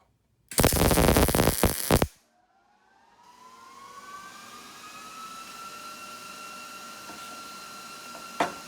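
A MillerMatic 211 welder lays a bead joining two 1/8 inch steel pipe caps: a loud, dense crackling buzz for about two seconds that stops abruptly, then a faint rising tonal hum and one small clank near the end.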